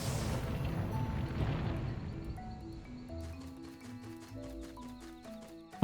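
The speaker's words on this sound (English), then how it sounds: "Bro's damage sound effect sounds like a high-pitched horse." An enemy's damage cry in a video game, a high-pitched horse-like whinny, heard among noisy clattering game effects that give way to tinkling game music, with no talking.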